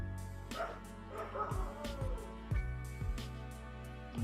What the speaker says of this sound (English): It's always the right time to hear the bark of my street dogs